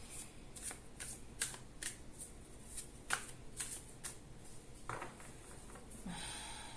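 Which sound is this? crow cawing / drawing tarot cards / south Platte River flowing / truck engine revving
drawing tarot cards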